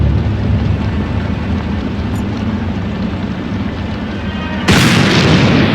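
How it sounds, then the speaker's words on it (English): A sudden loud firework boom cuts in near the end over a steady rumbling video game ambience in Black Mirror 3, the blast bright and close. "Might have been a firework."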